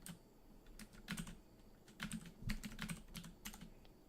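Computer keyboard keys clatter in irregular bursts of quick taps during a Dungeon Crawl Stone Soup play session, close and fairly quiet with short pauses between flurries.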